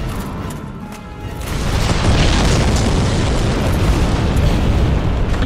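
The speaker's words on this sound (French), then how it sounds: "Il balance des grenades ici, le géant." A giant hurls exploding grenades in Dark Souls Remastered, giving a loud, dense roar of blasts and rumble that swells after the first second and stays heavy to the end.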